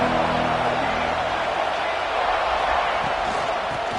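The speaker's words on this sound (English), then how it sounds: "This crowd ready to make its presence known." Football stadium crowd noise: a dense, steady roar from a large crowd, loud and unbroken throughout, with a faint low hum at the start.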